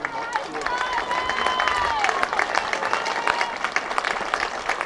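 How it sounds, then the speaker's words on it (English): A crowd applauds at a high school football game between the Crestwood Comets and Berwick Bulldogs as an injured player gets back up. Scattered clapping runs under a commentator talking and whistle-like tones, staying fairly distant and steady. "And a nice round of applause as Nora's back on his feet"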